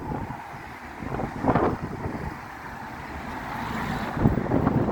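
Wind buffeting an outdoor microphone, a continuous low rumbling roar with gusty swells, loud and close, with a faint hint of passing traffic beneath.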